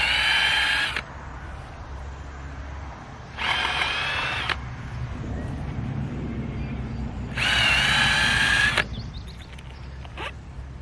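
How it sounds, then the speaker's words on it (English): A power drill bores holes through the wooden cross members of a blackberry and raspberry trellis, running in three loud bursts of roughly a second each, separated by quieter stretches of low background hum. "Next, we'll be drilling the holes in the cross members"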